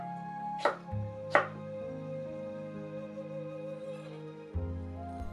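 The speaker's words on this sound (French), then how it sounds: "tout simplement les couper en rondelles, et de manière grossière aussi" A knife chops chili peppers into rounds on a cutting board, two distinct sharp chops early on and a softer third knock later, sparse and close over a quiet kitchen background.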